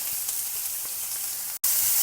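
Chopped onion, curry leaves and a dried red chilli sautéing in a pan for Madurai thanni chutney, a steady soft sizzle with faint stirring scrapes and a brief dropout near the end.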